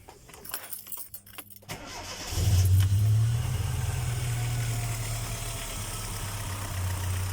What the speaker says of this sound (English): Now you can start the vehicle.